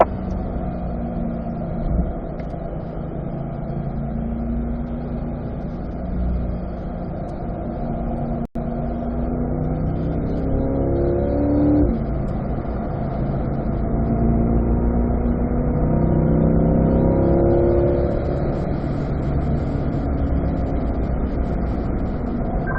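A Corvette on a race track at an owner school, its engine droning steadily and loud as it downshifts from fourth to third gear through a corner, pitch rising and falling with the throttle.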